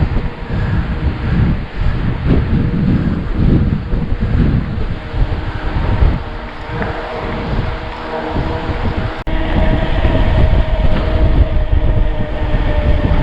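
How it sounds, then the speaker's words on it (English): Strong wind in Upper Teesdale batters the microphone with a loud, continuous roaring rumble that surges in gusts, growing heavier in the final few seconds. "Feel that wind from the left hand side now, very, very strong."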